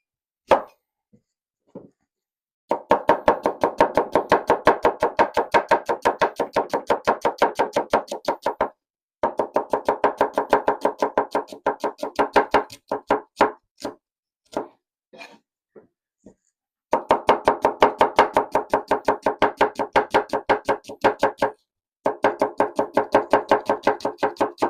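A knife chopping onion finely on a board, long fast runs of crisp, even, close taps broken by brief pauses, with no talking.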